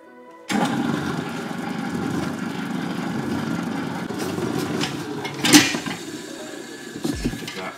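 A stand mixer turns slowly, kneading ciabatta dough with a steady, moderate motor hum that runs throughout, with a few louder knocks and clatters toward the end.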